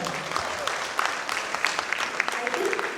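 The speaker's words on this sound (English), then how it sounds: "all of us to audience need a big round of applause here" Audience applause at a women's panel event, a dense patter of claps that stays steady through the moment, with voices talking faintly underneath.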